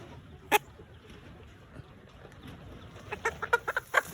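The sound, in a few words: chicken clucking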